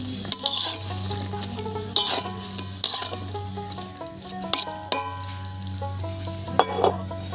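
Flat beans with garlic cloves, green chillies and salt stirred in a pan, a low simmering sizzle under repeated clinks and scrapes of a spoon against the metal, close and irregular.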